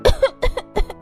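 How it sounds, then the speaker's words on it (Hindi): A child coughs three times in quick succession, loud and close, each cough a short harsh burst with brief gaps between. "देख कितनी खांसी हो रखी है इसको।"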